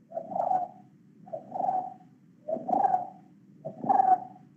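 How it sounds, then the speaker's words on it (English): A brown-headed barbet calling in a Goa forest, four rounded, hollow call phrases in an even rhythm, fairly close and clear, over a low steady background murmur. "You have the brown-headed barbet."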